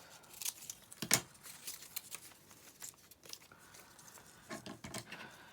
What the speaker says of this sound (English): Just get the scissors and cut that off.